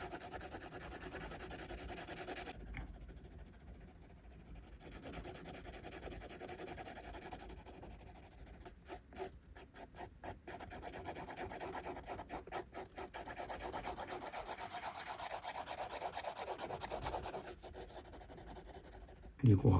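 Pencil shading hair lightly across paper in a drawing, a near, continuous soft scratching rasp with repeated short strokes that pause and resume, alone without talk.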